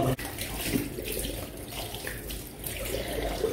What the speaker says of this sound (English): it's a struggle washing my hair in a fucking sink